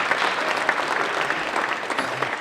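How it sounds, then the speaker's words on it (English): Audience applause at a college graduation and awards ceremony, a continuous dense patter of many hands clapping at steady loudness, with faint murmurs under it. "Let's have a round of applause for everyone who has participated"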